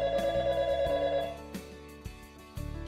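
Telephone ringing for an automated daily check-in call, a short electronic ringing tone followed by a few plucked musical notes, clear and moderately loud.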